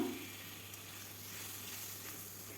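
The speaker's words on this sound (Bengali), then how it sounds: "দিয়ে ভালোভাবে কষিয়ে নেব মশলাটাকে যতক্ষণ না কাঁচা গন্ধ চলে যায় ততক্ষণ ভাজতেই থাকবো" Spice paste fries in a pan for mauri potol (pointed gourd with fennel), giving a faint, steady sizzle that hisses continuously throughout.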